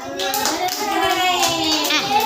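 Children in a classroom clap their hands together in quick, uneven bursts while kids' voices chatter and call out over the clapping.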